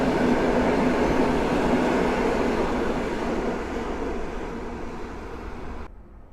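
An Impuls Europejczyk electric train on line S2 toward Warsaw Chopin Airport, at Warszawa Główna station, gives a loud, steady rumble close by that eases slightly, then cuts off abruptly near the end.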